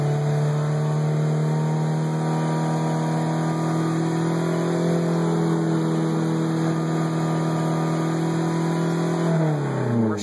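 The engine of a 1990–91 Honda Civic holds a steady, loud, close rev at constant pitch for several seconds, then drops away at the end.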